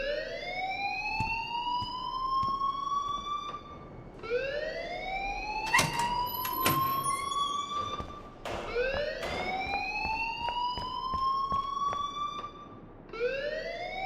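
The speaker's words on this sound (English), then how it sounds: "please turn off that alarm since that's your job" Rising and falling electronic alarm wail from the video game Life is Strange, repeating in long sweeping cycles about every four seconds, loud and steady with a few sharp clicks between sweeps.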